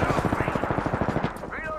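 Fast automatic gunfire in the battle royale shooter Apex Legends, a loud, steady stream of close shots with a brief rising tone near the end, a voice speaking over it.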